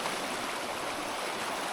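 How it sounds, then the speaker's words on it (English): A high-flowing mountain stream rushes in a constant broadband wash of water, steady and close, with no talking. "with the water flowing underneath it"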